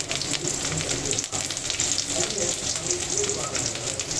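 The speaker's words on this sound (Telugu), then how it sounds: "మొదటిగా కట్ చేసిన ఉల్లిపాయలు వేసుకోవాలి" Chopped onions and curry leaves fry in hot oil for a chicken fry, giving a steady, dense sizzle with a crackling hiss that runs close and unbroken from start to finish.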